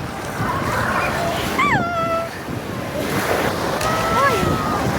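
Waves in a crowded wave pool wash and surge in a steady churning roar, with excited voices and shrill shouts rising over the water throughout.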